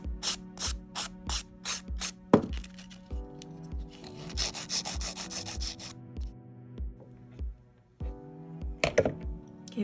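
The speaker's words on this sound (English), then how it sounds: "So you would do your normal filing routine at this point." An acrylic nail is filed in quick back-and-forth rasping strokes, rhythmic and close, with brief pauses and bursts of faster scraping, alone without talk.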